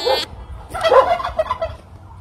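A turkey gobbles once nearby, a loud rapid rattling call lasting about a second, heard alone outdoors.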